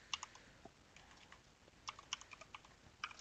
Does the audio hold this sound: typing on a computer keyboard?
yes